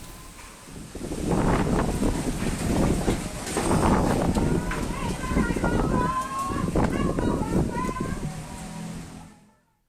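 Strong wind gusts through trees and overhead cables in Cibinong, Bogor, a loud rushing roar with rustling, while people's voices and shouts rise and fall under it before everything fades out.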